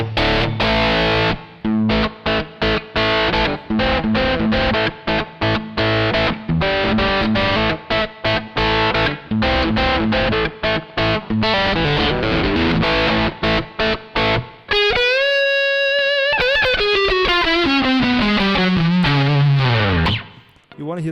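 Heavily distorted, gritty bass guitar through a Palmer PDI-03 bass preamp pedal playing a fast, chugging riff, then a few sustained notes sliding downward with a buzzy, saturated tone.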